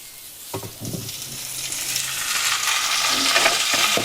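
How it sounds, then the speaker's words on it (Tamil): Potatoes frying in hot oil in a pan for an eggplant and potato curry, a steady sizzle that grows louder as a spoon stirs and scrapes through them, with no voices. "கிழங்கு வந்து நல்லா எண்ணெயில் பொரியட்டும்."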